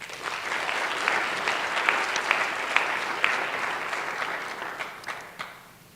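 Sustained applause from the audience at an eighth-grade school academic awards ceremony, dense clapping with a few sharp individual claps that fades toward the end.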